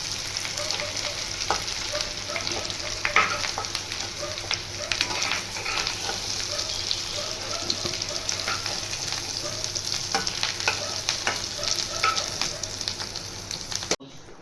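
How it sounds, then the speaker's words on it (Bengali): Potatoes fry red in hot oil in a kadai with a steady crackling sizzle, occasional stirring scrapes in the pan, close and continuous. "এবারে একইভাবে আলুগুলো লাল লাল করে ভেজে নেব।"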